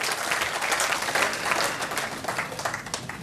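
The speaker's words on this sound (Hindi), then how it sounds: "आप सब लोग तालियां बजाइए" Audience at a 2011 mushaira poetry gathering in Delhi fills the room with steady applause, a dense, even wash of many hands clapping at moderate distance, sustained throughout without a break.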